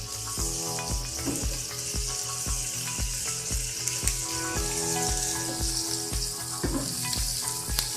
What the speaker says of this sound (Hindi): प्याज को ज़्यादा ब्राउन नहीं करना है, हल्के से ट्रांसपेरेंट कर लेना।